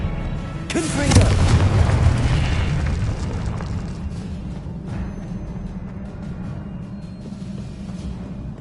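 Confringo and Incendio spell blasts in Hogwarts Legacy burst with a loud booming impact, then roll into a sustained rumbling roar that slowly fades.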